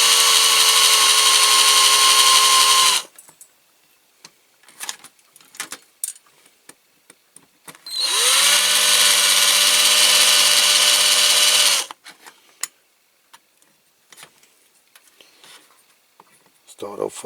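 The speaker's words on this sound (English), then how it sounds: "I need to drill out this rivet and that rivet" A power drill drills out rivets on a Corgi Massey-Ferguson die-cast model combine harvester, two loud sustained whines of about three and four seconds, separated and followed by quiet handling clicks.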